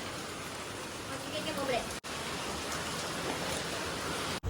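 Heavy monsoon rain in Bardoli, Gujarat hisses evenly throughout, a dense wash of falling drops with a couple of brief dropouts and faint voices in the background.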